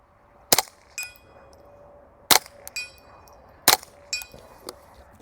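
Three suppressed rimfire rifle shots, fired offhand at a rabbit-sized target 80 yards away using Federal 45 grain copper-plated ammo. Each sharp muffled crack is followed about half a second later by a distant metallic ring from the struck steel.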